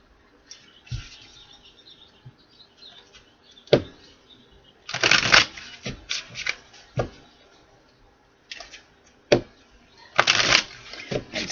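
A tarot card deck being shuffled up close, heard as several brisk riffling bursts separated by lighter taps and card handling.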